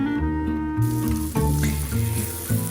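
Sliced onions caramelizing in a pan give a steady, close sizzle that lasts throughout. Tonal background music plays underneath.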